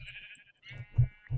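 Minecraft sheep let out a few short, nasal bleats close by, spaced in quick succession with soft low thumps between them.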